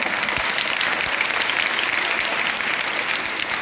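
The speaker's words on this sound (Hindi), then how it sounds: "मैं सबसे पहले बच्चों के लिए चाहती हूँ कि आप एक बार जोर से ताली बजाएं" Applause for schoolchildren at a school spring festival event, with many hands clapping in an even, sustained roar that stays strong and unbroken throughout, with no voices on top.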